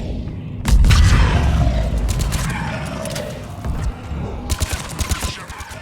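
Mass Effect 3 combat gunfire, a heavy booming burst followed by rumbling and then a volley of quick, sharp shots near the end.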